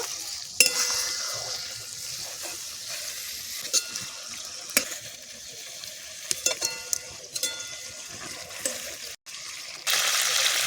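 Prawns fry briefly in hot oil in a pan for a Bengali potol chingri dish, giving a steady, moderate sizzle with occasional sharp spatters and utensil clicks, and no voices over it.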